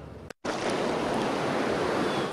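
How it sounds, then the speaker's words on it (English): Swift floodwater in Buncombe County rushes through branches in a loud, continuous roar that starts after a brief gap and stays steady and close. "Swift water whips back the branches of Mother Nature."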